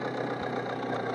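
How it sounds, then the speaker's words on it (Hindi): Tractor engine working hard as it climbs a mound on a farm, a loud, steady low rumble with a brief dip partway through, close and continuous with no talking. "यह ट्रैक्टर टीबी पर चढ़ रहा है तो इसलिए जोर मांग रहा है।"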